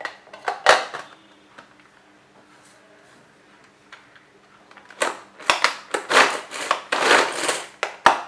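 A handheld vegetable chopper crushes cut onion pieces in loud, close bursts of crunching and clattering. A short burst comes first, then after a quiet pause a longer run of rapid, rhythmic chopping.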